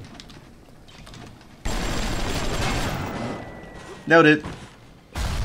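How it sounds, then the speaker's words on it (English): Tommy gun bursts in BioShock arrive in loud chunks, a sustained rattling stretch and a later burst, while someone briefly speaks between them. "So I'm just gonna run with the Tommy gun."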